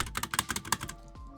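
Keystrokes and spacebar presses on an Apex Pro TKL keyboard, a quick irregular run of close, clicky taps that ends in one heavier thud, with no voice.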